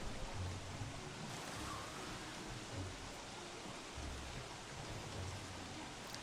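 Ocean waves in the Don't Starve Shipwrecked video game, a steady broadband wash of surf with soft low swells rolling in and out, continuous and moderately loud with no talk.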